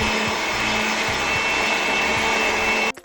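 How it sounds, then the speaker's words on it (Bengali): An electric grinder whirs steadily and loudly as it grinds ginger and cumin, with a faint rhythmic knocking underneath, then cuts off abruptly at the end. "আমি বেটে নিচ্ছি"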